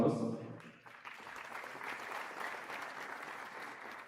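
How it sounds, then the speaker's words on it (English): A large audience at a college of medicine white coat ceremony bursts into applause after a brief voice, the clapping sustained and fairly even for a few seconds. "Another big round of applause."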